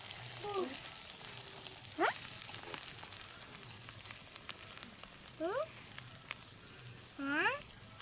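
Food stir-frying in hot oil gives a steady, close sizzling hiss for the whole stretch. Short chirping calls and faint voices break in now and then over it.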